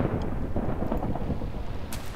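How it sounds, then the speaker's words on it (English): A lightning bolt strikes in the Minecraft game, a loud, continuous rumbling crash of broadband thunder that fills the moment, with a sharp crackle near the end. "who's chucking lightning bolts?"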